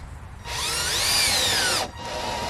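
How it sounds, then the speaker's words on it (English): A power drill drives a screw into wooden compost-bin pallets outdoors, one loud, close whine lasting just over a second that rises and falls in pitch before stopping abruptly. "He's screwing to each of the pallets just to give it a little more support"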